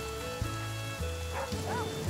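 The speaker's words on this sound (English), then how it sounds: "while it's raining right now, I should fill my jar" Steady rain falls in the survival game The Flame in the Flood, a soft continuous wash with a few low tonal game sounds layered beneath it.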